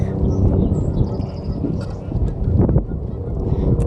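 Geese and goslings honk loudly and close, a dense cluster of overlapping nasal calls continuing throughout, with voices talking alongside.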